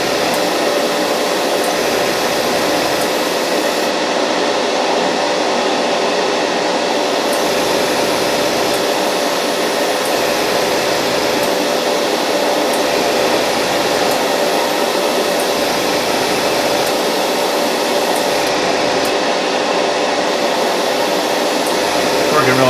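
An Iwata Neo airbrush spraying a mix of buff and tan earth model paint with flow improver, giving a steady, continuous airy hiss that holds at an even, fairly loud level without pause.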